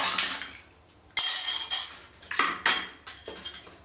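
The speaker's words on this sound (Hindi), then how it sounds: "अब डालेंगे इसमें बर्फ़।" Ice cubes dropped into a blender jug holding peach, black salt, sugar, lemon juice and water, making several sharp clattering clinks in irregular bursts, close and fairly clear with no talking.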